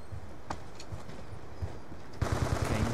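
Automatic gunfire on the Cargo map in a Call of Duty online match starts as faint scattered shots, then turns into a louder rapid burst near the end.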